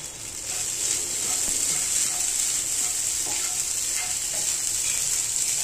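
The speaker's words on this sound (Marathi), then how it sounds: "आता मी खिचडीचे तांदूळ टाकते याच्यामध्ये. चांगले भाजून घ्यायचे." Khichdi rice grains roasting in a pan, giving a steady, continuous sizzling hiss with faint scraping stirs scattered through, close and moderately loud with no talk.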